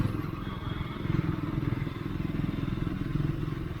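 A Triumph Scrambler 400 motorcycle engine holds a steady, throbbing idle-to-mid rumble, a continuous low, pulsing drone up close with no clear revving changes.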